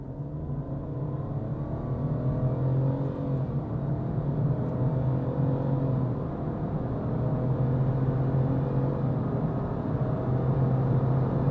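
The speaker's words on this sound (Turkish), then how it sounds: "0-100 yapacağım. Bastım." A 2022 Renault Clio 1.0 TCe with an X-Tronic automatic gearbox accelerates flat out from 0 to 100 km/h, a steady droning engine hum holding a fairly constant pitch under road rumble, heard from inside the cabin.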